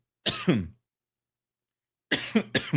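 Two bursts of close, harsh coughing separated by a pause, the second a quick double cough, with no talking.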